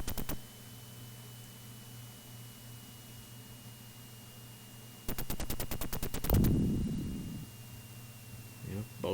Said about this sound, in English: boats blow up with gunfire